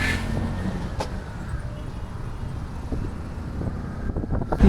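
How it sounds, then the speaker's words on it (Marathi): Road traffic during the Dehu pilgrimage, a continuous dense rumble of cars and vehicles with wind buffeting the microphone, close and steady throughout. "तुम्ही पाहू शकता एवढी अशी ट्रॅफिक आहे."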